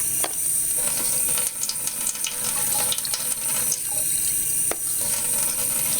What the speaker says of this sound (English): I'm going to run a little bit of water in it just to make something to dip my gizzards and liver in